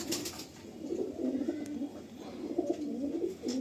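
Male loft pigeon cooing close by in a series of low, throaty rolling coos that run steadily throughout with short gaps, no voices over it.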